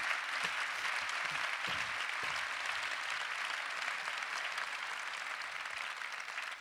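Audience at a women's careers forum applauds the speakers, a steady, sustained wash of many hands clapping at moderate distance that fades slightly toward the end.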